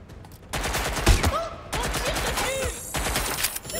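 Gunfire from above in Watch Dogs Legion, a rapid burst of loud, close shots that repeats several times across a few seconds amid busy game noise.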